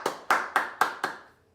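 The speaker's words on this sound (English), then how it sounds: "So you give them a big clap." Five sharp hand claps in a quick, even rhythm ring out close and loud in a quiet room, each ending in a brief decay. They greet a child coming to the front.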